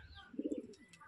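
A Kalshira or Phulshira pigeon gives a short, soft, low coo of a few quick pulses, close by and brief, in a quiet setting.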